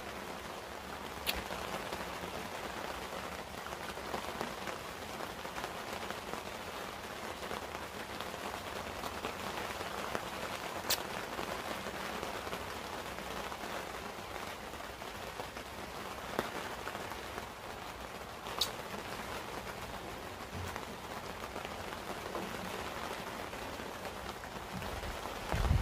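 Rain falls steadily on a garden in a soft, even patter that stays faint and continuous, with a few sharper drips and clicks now and then. No voices are heard.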